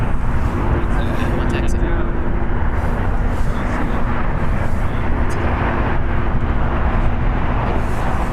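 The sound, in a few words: Alaska Airlines Airbus A321neo on runway at LAX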